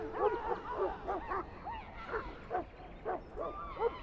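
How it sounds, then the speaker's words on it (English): A Mabari hound in the game Dragon Age: Origins barks and yips repeatedly in a castle kitchen, a string of short moderately loud woofs at an uneven rhythm, with whiny, whimpering tones between barks. "I fear your hound has the kitchens in uproar once again"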